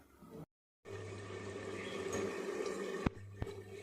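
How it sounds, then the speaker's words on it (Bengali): Papaya and potatoes boiling in a covered pot give a steady bubbling hiss and low hum, cut by a brief silent gap early on, then two sharp clicks or knocks near the end; no voices. "কিছুক্ষণ এরকম ঢাকা দেওয়া থাক, পেঁপে আলু খুব ভালোভাবে সিদ্ধ হয়ে নরম হয়ে যাবে"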